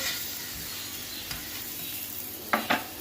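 An aloo paratha cooks in ghee on a hot griddle with a constant close sizzle and hiss, and a couple of sharp scraping knocks come near the end.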